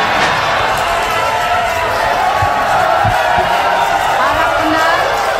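Political supporters in a studio audience raise a loud, continuous roar of cheering and clapping, a dense crowd sound that holds steady throughout.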